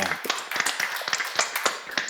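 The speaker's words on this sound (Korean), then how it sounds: "해, 박수 쳐줘." A small group at a church seminar claps in short, uneven bursts, the hand claps close and crisp with irregular rhythm.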